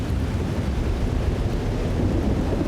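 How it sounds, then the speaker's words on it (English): Thunder rolls through a storm in the video game Life is Strange: Double Exposure, a steady, dense low rumble that holds at an even loudness for the whole stretch, with no voices. "It's thundering."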